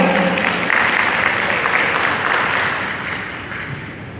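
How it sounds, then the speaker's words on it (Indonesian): Sustained applause from an audience at a university academic event, a dense wash of clapping that stays steady and then gradually fades toward the end. "Tepuk tangan hadirin sekalian"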